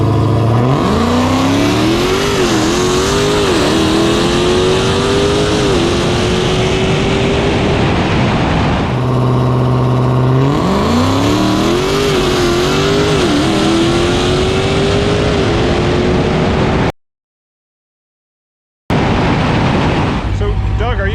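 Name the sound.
drag race car making a quarter-mile test pass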